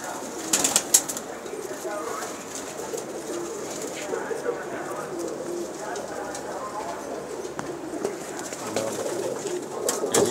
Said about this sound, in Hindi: बाजी वाले कबूतर हैं।